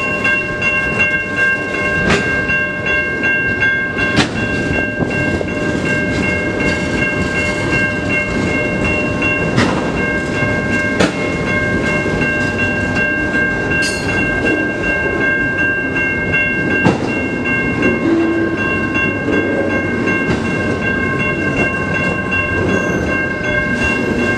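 A stopped CN freight train starts rolling again through the Mill Street railroad crossing in Ecorse, Michigan, a steady loud rumble of passing cars with rhythmic wheel clacks, while a crossing bell rings in steady tones throughout.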